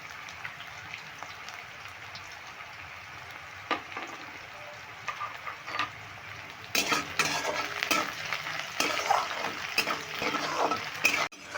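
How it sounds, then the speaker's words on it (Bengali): Onions fry in a pan with a pinch of salt and sugar, a crackling sizzle that starts quiet and swells louder partway through as stirring kicks in, close up with no speech. "এবার পেঁয়াজের মধ্যে দিয়ে দিচ্ছি সামান্য একটু নুন যাতে তাড়াতাড়ি পেঁয়াজটা ভাজা হয়ে যায়"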